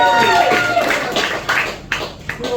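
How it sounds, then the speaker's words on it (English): Comedy club audience giving a round of applause to the organiser, short scattered clapping with a few louder claps, mixed with voices and some whistling or cheering tones in a lively room. "I'm going to give Stuart a round of applause for organising it."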